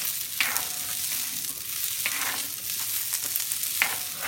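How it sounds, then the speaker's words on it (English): Food frying in a pan is stirred continuously, a steady sizzle broken by occasional scraping strokes of the spoon every second or so, close and alone with no talking. "So the thing is to always keep it stirring."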